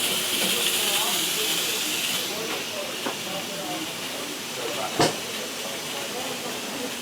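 Steady broadband hissing of steam exhaust fills the clip, with a few faint clanks and one sharp knock partway through.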